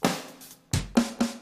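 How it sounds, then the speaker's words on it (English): A synthesized snare drum patch on a Kurzweil PC3 synthesizer, struck four times in a loose rhythm with crisp, bright hits ringing briefly, heard alone and close. "Okay, here's a snare drum."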